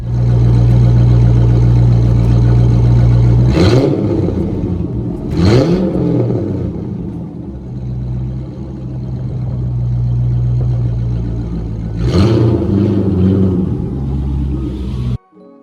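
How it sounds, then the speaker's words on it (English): A car engine with a loud aftermarket exhaust idles deeply, then revs sharply three times, each burst rising and falling before settling back to a throaty idle. "if you buy one you will put an exhaust on it so that it sounds badass like this"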